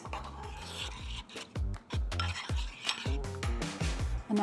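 White miso paste being mixed with water in a bowl, giving repeated close scraping and clinking of a utensil against the dish in an uneven rhythm, with no talking.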